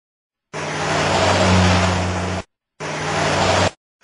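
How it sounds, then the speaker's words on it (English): A heavy truck engine roars loudly for about two seconds, cuts out briefly, then roars again for another second. "Truck."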